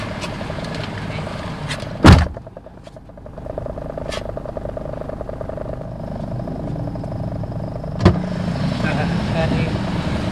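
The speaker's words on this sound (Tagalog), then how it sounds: "Di ko lang patayin tong sasakyan para may aircon sila." A car engine idles steadily while left running to keep the air conditioning on for puppies during a vaccination outing; the low, continuous hum is close and constant, broken by two sharp knocks around the second and eighth seconds.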